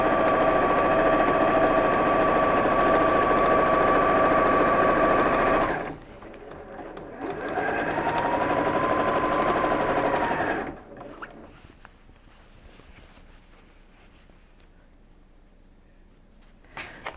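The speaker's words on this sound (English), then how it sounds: "new sewing machine, I just love that it automatically backs up on me" A new domestic sewing machine runs in steady whirring bursts while stitching the shoulder seam of a DIY medical isolation gown, with a pause between runs before it falls quiet at the end.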